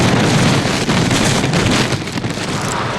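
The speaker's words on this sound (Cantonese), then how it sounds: "雨勢時大時細，微微雨嘅時候風勢依然強勁" Strong wind and rain sweep over Victoria Harbour in Hong Kong under a No. 3 strong wind signal, a dense, loud, continuous roar of gusts and falling rain with no voices.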